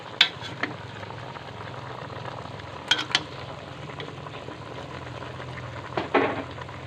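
Chicken tinola broth boiling in a pot: steady bubbling and simmering, a continuous low churning hiss with a few faint clinks, no voices.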